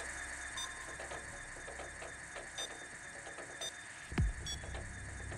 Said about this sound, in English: I'm drilling into it. Make sure no one else comes near the drill. They might notice the sound.